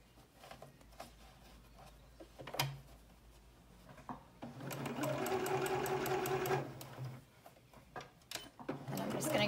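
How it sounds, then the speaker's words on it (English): A sewing machine stitches two interior pocket pieces of a zipper-pocket tote bag together in short bursts, then runs a longer steady stretch of fast, close mechanical whirring, with brief stops and small handling noises between. "I'm just sewing my two interior pocket pieces together down this side"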